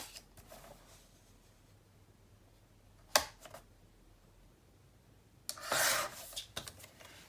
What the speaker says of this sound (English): I think I want to trim about 1/8 of an inch off this one.